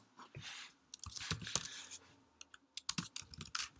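Fast typing on a computer keyboard while writing CSS code, with irregular clusters of close, crisp key clicks separated by short pauses, quiet and with no talking.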